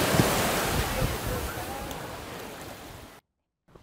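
Ocean surf at a surf beach in Australia rolls in as a continuous broad wash of breaking waves with wind buffeting the microphone, loud and close, then cutting to silence near the end.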